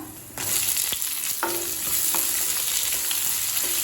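Garlic and onions sauté in hot oil in a pan for a hotel-style kara chutney, a steady close sizzle with occasional scraping stirs and clinks, no voices.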